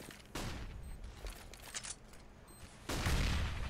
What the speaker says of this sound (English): Firing through smoke, no frag.